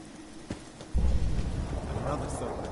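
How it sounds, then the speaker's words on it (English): Steady rain falls in the Fallout 4 video game, a rushing hiss that swells after a low rumble and continues under a man's speech. "Hope this rain lets up soon."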